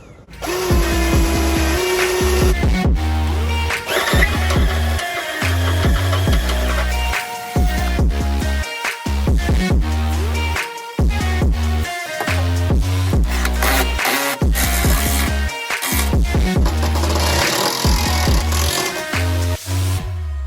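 A power drill bores holes for a Jeep JK belly skid plate install, a loud, close whining motor running in long bursts with brief stops between holes.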